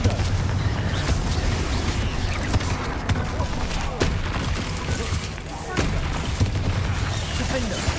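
Confringo blast spells fire during a hectic Hogwarts Legacy video game battle, heard as loud, dense blasts and crackling bursts over a constant rumbling combat din, with voices talking.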